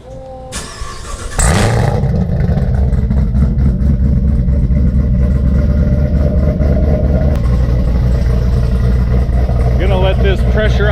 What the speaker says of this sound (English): Let's fire the car up